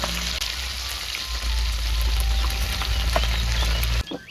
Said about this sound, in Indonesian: Ini goreng tempe